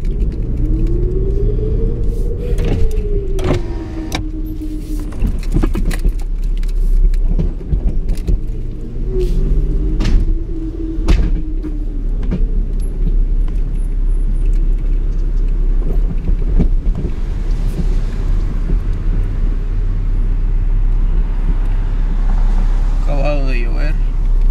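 A car with a flat tire drives toward a gas station, its steady low engine and road rumble filling the whole stretch from inside the cabin, with occasional faint rattles and a voice now and then.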